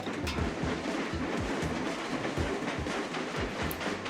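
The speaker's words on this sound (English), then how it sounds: "now we have ghost trains coming up that we're going to have to confront" Ghost trains approaching in the video game Train Crisis, a steady rolling rumble with rhythmic clickety-clack of wheels over rail joints, continuous and fairly loud with no voices.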